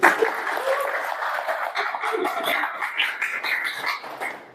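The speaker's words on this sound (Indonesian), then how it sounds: "beri aplaus dulu yang udah maju" Classroom applause during a university lecture on basic logic gates, a scattered patter of hand claps from students, moderately close and steady for a few seconds.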